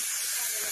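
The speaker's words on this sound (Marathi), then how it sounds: "चला आता हे बघा मस्तपैकी कुकरच्या शिट्ट्या झालेल्या आहेत" A kitchen pressure cooker releases steam in a loud, steady hiss that fills the whole brief moment.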